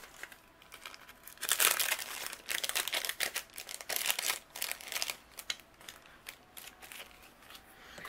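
A sheet of acetate is handled and crinkled while making a shaker card, giving close, crisp plastic crackles and rustles in irregular bursts with brief quieter gaps.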